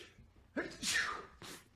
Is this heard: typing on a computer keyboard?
no